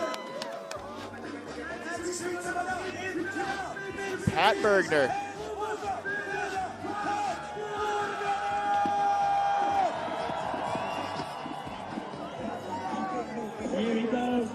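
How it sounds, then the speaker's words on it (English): Crowd noise at a men's FIS snowboard halfpipe World Cup semi-final in Laax, a steady swell of cheering and chatter building in the background under continuous commentary, with a louder burst partway through. "Crowd's getting loud out there for him."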